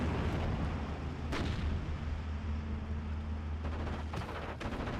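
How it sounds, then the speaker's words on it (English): Artillery fire in a Steel Division: Normandy 44 battle, with heavy booming blasts rolling continuously over a low rumble and several sharp reports standing out, loud and dense. "Looks like these are artillery pieces."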